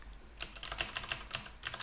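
Keyboard shortcut keys pressed on a computer keyboard while formatting spreadsheet cells, a quick run of close, crisp clicks in small clusters with no talking.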